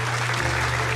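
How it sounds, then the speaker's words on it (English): Brief burst of hand clapping played over a steady tonal sound effect from the visual novel game Cinderella Phenomenon, close and continuous for about a second. "I didn't need to clap. There was going to be a sound effect for me, apparently, but I wanted to add my own clapping."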